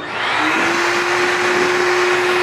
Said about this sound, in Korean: 바디 드라이기.